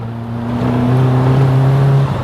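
Caterham Seven 420R sports car engine rising steadily in pitch as it accelerates, a loud, continuous drone heard from inside or close by, with no talking.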